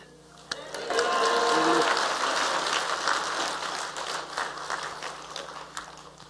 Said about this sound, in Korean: 우리 목사님 나오실 때 우리 할렐루야로 박수로 환영하겠습니다.